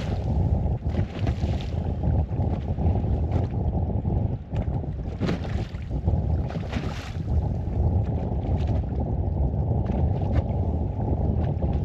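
Steady wind roars across open water around a fishing boat on Door County waters in early spring, a continuous broadband rush with gusty swells and buffeting against the microphone for the whole stretch, no voices.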